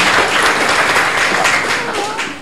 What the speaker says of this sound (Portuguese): Uma salva de palmas aí para o Renato.